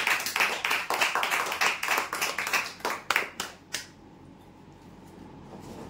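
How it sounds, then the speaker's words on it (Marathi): A crowd giving loud applause for prize winners at a lucky draw event, a burst of clapping that holds for about three and a half seconds and then quickly dies away into room quiet. "जोरदार टाळ्या होऊ देण्यासाठी"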